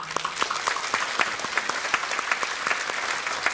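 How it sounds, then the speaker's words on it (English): Applause from a conference audience at a plenary session on data for development, a steady patter of many hands clapping at moderate volume, with a faint voice briefly audible underneath. "a round of applause"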